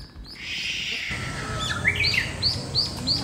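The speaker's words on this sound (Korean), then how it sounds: "뭔 소리야? 새소리." Birds chirping at Halla Arboretum in Jeju, a series of short bright tweets repeating every fraction of a second over soft outdoor background noise, fairly close and clear.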